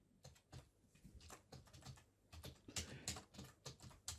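Fingers type on a computer keyboard in quick, irregular bursts of soft clicks, close and quiet, with no voices.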